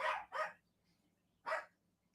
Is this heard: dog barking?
yes